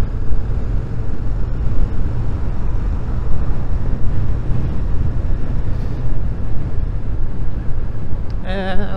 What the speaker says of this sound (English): it's a very windy day today